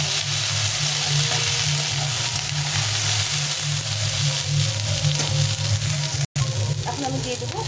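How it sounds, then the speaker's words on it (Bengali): Potatoes, onions and green chillies frying in a pan for a fish-head chorchori, giving a loud, even sizzle of oil throughout with a brief cut near the end. "5টা কাঁচা লঙ্কাগুলো দিয়ে দিলাম। দিয়ে আবার একটু ভালো করে ভেজে দিতে হবে।"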